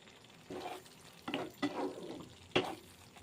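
Spiced vegetable curry sautéing in oil in a pan, with a soft background sizzle broken by several distinct stirring scrapes and clinks at close range.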